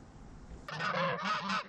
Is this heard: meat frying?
no